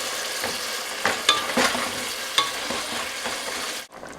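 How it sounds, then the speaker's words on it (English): A spoon stirs a ginger and garlic mixture in a pot for beef biryani, with a continuous sizzle and a few sharper scraping knocks near the start, then a brief drop to quiet at the end. "I'm just going to take a scoop of ginger, scoop of garlic, and I'm going to mix that all together."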